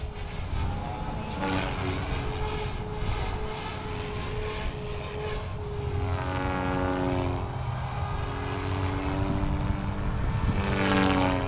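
A small RC helicopter, an OMP Hobby M4 or SAB Goblin RAW 420, spins up in idle up with a loud, steady rotor whine and buzzing motor whose pitch rises and wavers while it hovers close by.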